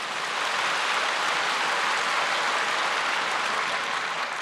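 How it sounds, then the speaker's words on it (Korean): A church congregation applauds during a sermon, giving a dense, even, rain-like wash of clapping that holds at a steady loudness throughout with no voices. "우리 한번 박수 치고 합시다"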